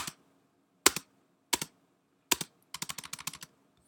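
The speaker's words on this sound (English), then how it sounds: "The spacebar again." A computer keyboard spacebar is pressed several times, first as three separate, well-spaced clicks and then as a quick run of about seven taps, each crisp and close.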